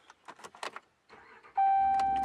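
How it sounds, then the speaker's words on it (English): A 2015 RAM 1500 ST pickup truck is started with the key: faint clicks and chimes of the ignition come first, then the engine catches with a sudden loud surge and settles into a steady, close idle. "let's start her up here. So key in the ignition,"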